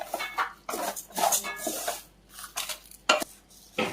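Coriander seeds, dried red chillies and rice being dry-roasted over a low flame in a pan at home for sambar and rasam powder, heard as intermittent scraping and clinking stirs against the metal, close and moderately loud, with no talk.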